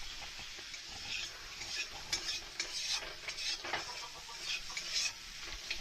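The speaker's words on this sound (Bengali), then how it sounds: "মশলাটাকে ভালো করে একটু কষে নেব।" Spices sautéing in a pan for an old-style vegetarian ridge gourd dish, heard as a soft sizzle under a spoon scraping and stirring, with light clinks and scrapes repeating irregularly.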